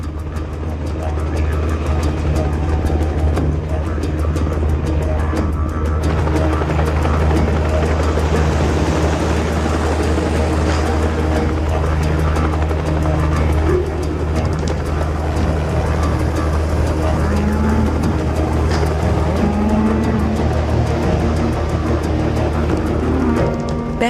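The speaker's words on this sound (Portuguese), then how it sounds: "Os cowboys utilizam helicóptero para empurrar as vacas." A steady, loud low-pitched engine drone with a continuous rumble runs throughout, a helicopter herding cattle on a ranch in Australia's Northern Territory, with faint background voices.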